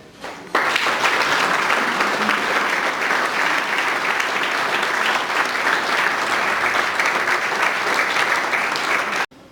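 An audience at the Ljutomer sports federation's athlete-of-the-year awards ceremony breaks into loud, sustained applause, a dense wash of clapping that holds for about nine seconds before cutting off.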